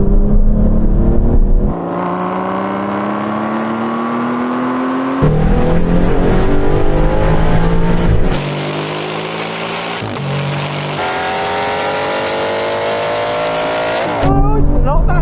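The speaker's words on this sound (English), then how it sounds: "We're going to roll in at 50 and it will be a third gear roll on." Loud Aston Martin race car engines roar and rev up through several gear changes in a drag race from a third-gear roll at 50, pitch climbing repeatedly as the cars accelerate hard, close by.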